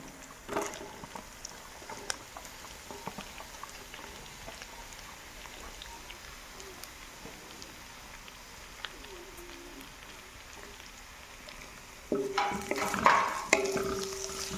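Long-cut sliced onions drop into garlic already fried in a pan and get stirred, a short burst of sizzling and scraping near the end after a long quiet stretch of low room noise.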